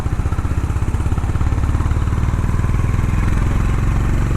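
Honda H'ness 350 single-cylinder motorcycle engine running steadily up close, a loud, even low thump with a fast regular pulse and a slight rise in pace, no talking.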